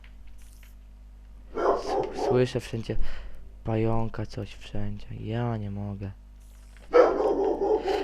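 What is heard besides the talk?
dog barking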